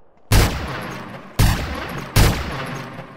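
Desert Eagle pistol shots in a video game: three loud, sharp reports spaced about a second apart, each with a booming decay that rings on until the next shot.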